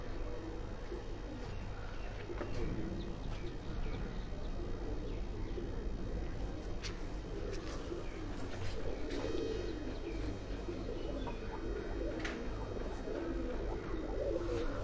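Pigeons coo on a rooftop of a haveli, a low soft murmuring running steadily throughout with occasional chirps, under a constant outdoor background.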